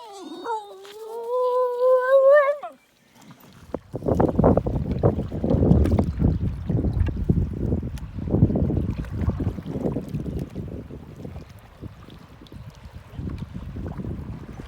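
Steady splashing and rushing water with canoe paddle strokes on the Namekagon River, approaching rapids, and wind buffeting the microphone, preceded by a brief high-pitched whine; continuous and fairly loud.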